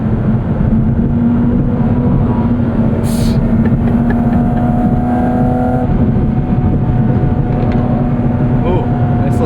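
A Porsche 718 Cayman GT4 RS engine drones loudly and steadily from inside the cabin, with a sustained low tone, a brief higher-pitched rise partway through, and a voice talking over it.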